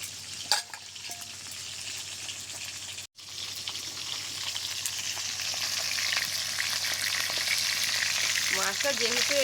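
Large fish frying in hot oil, a steady close sizzle building and holding for several seconds after a brief clatter and a short cut, with faint voice-like tones near the end.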